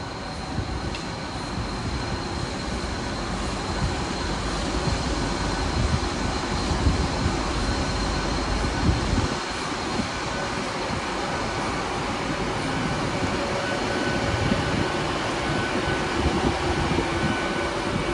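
A passenger train idles at a station near Crewe in Wales, giving a continuous low rumble and hum with a steady mechanical drone and no talking.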